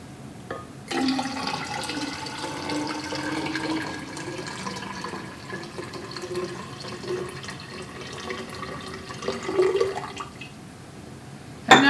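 Liquid chemical solutions for an oscillating reaction are poured into a container and mix, giving a steady, moderately loud watery pouring and swirling sound for most of the stretch, with a brief splash near the end.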